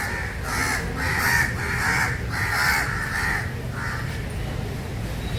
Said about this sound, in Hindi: लेकिन वो दोनों कौवे जाने का नाम नहीं ले रहे यहाँ से